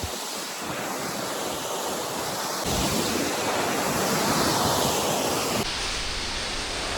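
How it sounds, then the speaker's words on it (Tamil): A waterfall in Thrissur district runs heavy after a sudden rise in flow, giving a steady, dense roar of pouring water that swells louder midway, with no voices over it. "இப்போ இவ்வளோ தண்ணி ஊற்றிக்கிட்டு இருக்கு."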